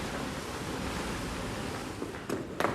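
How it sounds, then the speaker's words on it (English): Waves wash against the shore in a film scene, a continuous surging hiss of surf with a couple of sharper splashes near the end and no speech. "waves against the shore,"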